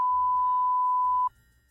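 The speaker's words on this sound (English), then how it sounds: "Stop your beeping." A single steady electronic beep from the video game Simon the Sorcerer 4 holds for just over a second and then cuts off, leaving faint low background sound.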